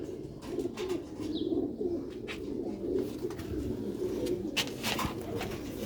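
Pigeons of a pearl-marked breed coo in soft, low, rolling phrases that repeat throughout, nearby and fairly quiet, with faint background noise and a few light knocks.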